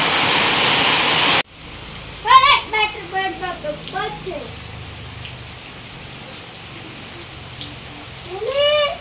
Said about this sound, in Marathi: थोडंसं कमी झालो हा पाऊस।